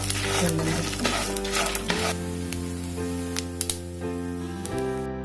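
Spices roast in a pan with dried red chilies for vada pav dry chutney, a close, continuous sizzle with stirring scrapes and a few sharp clicks, over a steady low hum.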